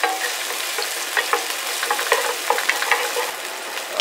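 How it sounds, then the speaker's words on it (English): Shrimp stirred in a hot pan on medium-high heat: a steady bright sizzle with irregular scraping and clicking utensil strokes, close and continuous with no talking. "Stir them up for about 30 seconds"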